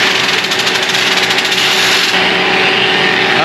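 A steady, high-pitched whirring power polisher runs continuously, grinding and sanding fiberglass with a constant buzzing tone and no pauses.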